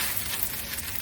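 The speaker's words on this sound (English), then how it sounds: "Preheat the frying pan, and add butter." Butter sizzles in a preheated frying pan while cabbage toast cooks, a bright, steady crackling hiss heard close up for a brief second with no voices.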